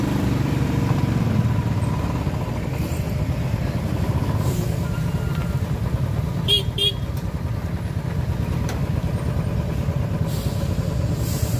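A long line of lorries idles in a traffic jam at the Chandil rail crossing in Jharkhand: a steady, close, low engine rumble with a pair of short horn chirps midway and faint voices underneath.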